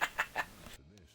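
Chickens cluck in the Left 4 Dead 2 video game, with three quick, sharp clucks in a row followed by softer, drawn-out warbling calls, fairly close and clear.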